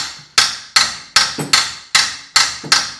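A hammer taps upward on a seized nut and bolt on a Suzuki Intruder VS1400 motorcycle engine, sharp metallic strikes repeating about every 0.4 seconds, close and alone.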